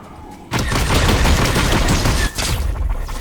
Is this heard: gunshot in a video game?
yes